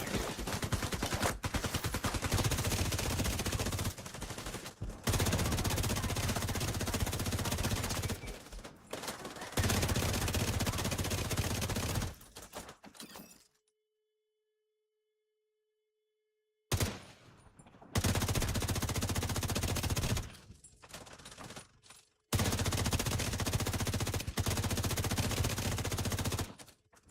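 Rapid rifle fire in The Division 2 during a fight at DARPA Labs, long loud bursts of shots with brief pauses and a silent gap midway, close and dominant.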